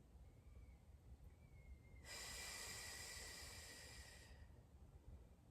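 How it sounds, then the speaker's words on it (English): A slow, deep diaphragmatic exhale during a breathing exercise comes as one long, steady, close airy breath lasting about two seconds, preceded and followed by quiet room tone. "Exhaling nice and slow, pushing the air out with the diaphragm, holding on the exhale."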